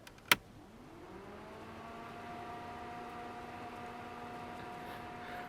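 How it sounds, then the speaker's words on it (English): An electric thermofan in a V8 Holden VS Series 3 ute switching on after a sharp click, then spinning up with a rising whir that settles into a steady, faint hum with soft background hiss. "That is for the thermofan up in the front there."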